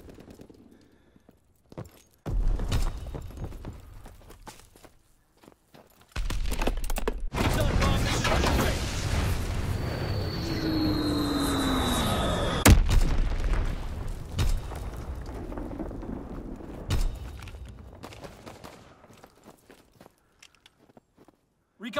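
Airstrike bombing run in a video game after a recon flight, with a loud sustained rumble of explosions and blasts, a whistling descending tone, and scattered sharp impacts before and after.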